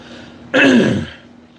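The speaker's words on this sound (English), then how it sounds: "let me clear my throat" One loud, close throat clearing, a rough rasping burst that trails off after about half a second.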